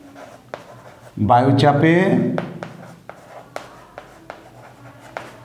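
Writing during a Class 7 Bengali-language science lesson on heat: a run of sharp, separate taps and clicks on a board follows a loud stretch of the teacher's speech, close and fairly crisp.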